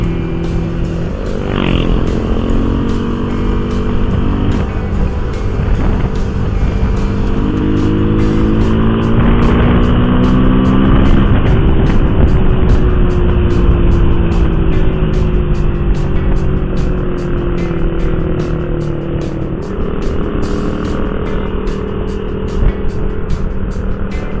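A Yamaha Jupiter MX motorcycle fitted with an Epyun exhaust rides steadily along a road, its engine droning loud and continuous with shifting revs and a brief throttle blip, heard close throughout with no talk.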